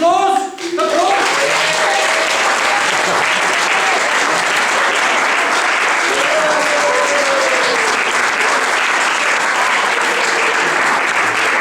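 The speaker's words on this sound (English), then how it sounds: "You get happy when they give you an applause" Audience at a comedy skit about emotions breaks into long, loud, continuous applause after a brief vocal onset, scattered whoops rising over the steady clapping.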